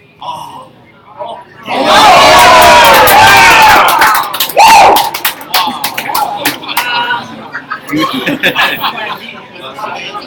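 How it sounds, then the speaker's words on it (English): Curling crowd at a semi-final game suddenly erupts in loud cheers and shouts after a tense shot, then settles into excited chatter with scattered claps, all close and full. "A big eruption in the crowd."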